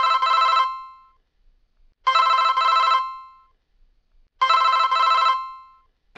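A telephone rings three times, each a loud trilling burst of about a second followed by a gap, with no voices present; the call comes from a private or blocked number.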